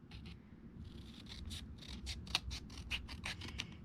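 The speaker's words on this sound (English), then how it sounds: "I come through with my snips and I just try to take this in half on each end." Metal snips cutting through the spine of a handmade 6x6 mini album, a close series of quick crisp snipping clicks repeating in an uneven rhythm over a quiet low background.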